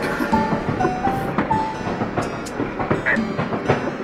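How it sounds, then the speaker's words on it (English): Train ride in the Roblox game: steady rolling rumble with rhythmic clickety-clack and scattered metallic squeals and tones, continuous and close, with no talking. "I'm on a train"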